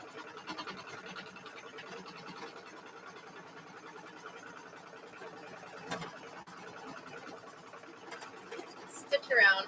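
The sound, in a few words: sewing machine stitching variegated thread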